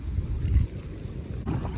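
Strong wind buffets an open microphone on a small boat in a tidal creek, a loud low rumble with gusts and faint water movement, continuous for about two seconds with a brief lull and a renewed gust near the end.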